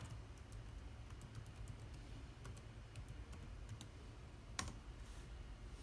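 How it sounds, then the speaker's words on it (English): Typing on the keyboard of an Acer Aspire 5 Slim laptop while entering network sign-in credentials: a quiet, steady run of light key clicks over a low background hum, with one sharper tap near the end. "Now type your credentials."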